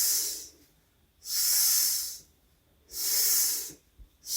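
A voice imitates a snake's hiss with a long drawn-out S sound, three breathy hisses separated by pauses, close and fairly loud, with no other speech.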